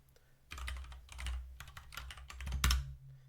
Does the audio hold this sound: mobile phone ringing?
no